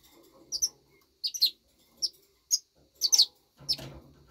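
Pet birds chirping while pecking at a bunch of greens: short, bright tweets come in scattered bursts, about eight in all, close and fairly clear over a quiet background, with no voices.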